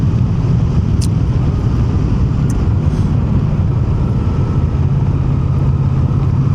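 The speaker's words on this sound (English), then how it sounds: "It's a very beautiful, smooth engine." Moto Guzzi Mandello motorcycle engine while riding on Pirelli sports tyres, a steady, loud, smooth low drone blended with continuous road and wind rush, unbroken throughout with no talking.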